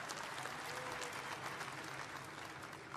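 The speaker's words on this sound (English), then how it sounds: "Give him a nice round of applause." Sustained audience applause for the governor of Nevada at a Las Vegas stadium groundbreaking event, dense and steady throughout with no pauses.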